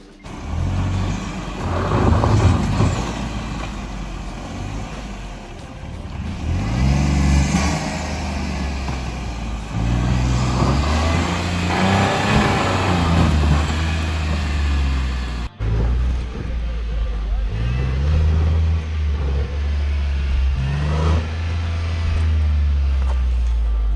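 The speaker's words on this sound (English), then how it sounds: "raise your volume up to hear those nice turbo spools" A Nissan Magnite's turbo engine strains during hard off-road driving, revving in repeated rising and falling surges with a whining spool over a deep, loud engine drone.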